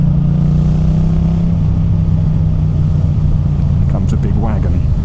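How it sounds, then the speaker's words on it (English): A Yamaha MT-07 motorcycle's exhaust while riding on the road: a steady, loud low engine drone with a rumbling pulse that holds throughout, close to the listener. "Listen to that exhaust."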